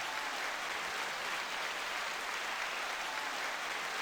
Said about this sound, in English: Go out with applause.